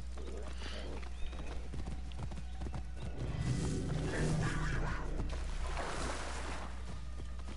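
A horse in the video game Assassin's Creed Origins clip-clops along at a steady trotting rhythm under ambient game sound, with a neigh, while a player talks over it.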